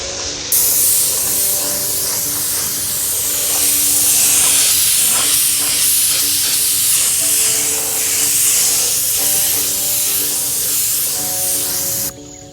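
Spray paint hisses steadily and loud from a nearby can as a Yamaha R1 motorcycle panel is lightly dusted, one continuous broad spray lasting about twelve seconds and cutting off cleanly at the end.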